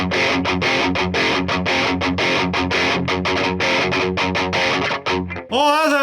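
Electric guitar played through a clone of a Black Cat OD-1 fuzz pedal, producing loud, thick distorted chords in a fast choppy rhythm, ending with a brief pause and a wavering sustained note.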